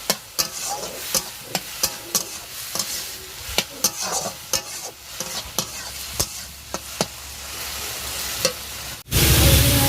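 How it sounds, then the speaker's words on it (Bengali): Soaked bitter gourd frying and being stirred in a pan, steady sizzle with repeated sharp clinks and scrapes of a spatula, close and fairly loud, ending in a sudden louder burst of sizzle. "এবারে দিয়ে দেবো এই যে ভিজে রাখা উচ্ছে এটাকে আবার একটুখানি কষিয়ে নেবো"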